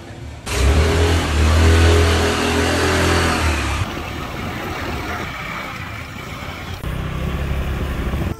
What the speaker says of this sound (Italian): Prendiamo il motorino che sta in casa di questi signori.